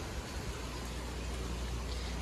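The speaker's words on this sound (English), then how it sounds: "And it's raining right now, sadly" Steady rain falls outside mountain cabins on a mountainside, an even hiss of drops on surfaces with no breaks, moderately loud and continuous.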